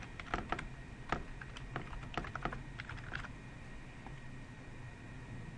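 Fingers tap out a burst of keystrokes on a computer keyboard, a quick irregular clatter of close clicks that tapers off into quiet room hiss with no talking.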